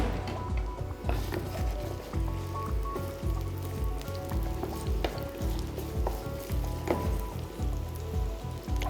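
Onion stir-frying in about 30 g of hot oil: a steady, close sizzle with repeated rhythmic scraping and tossing strokes throughout.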